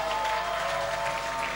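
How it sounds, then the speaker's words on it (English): A church congregation claps briefly after a sermon, with steady scattered hand claps over a faint sustained tone in the room. "give Jesus a mighty clap"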